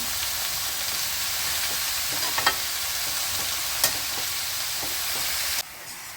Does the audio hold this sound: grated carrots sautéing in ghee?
yes